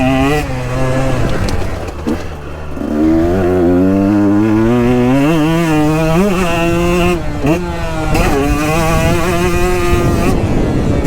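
A 2022 KTM 125XC two-stroke dirt bike engine buzzes loud and close while being ridden, its revs climbing and falling repeatedly through gear changes, with wind rush over the microphone.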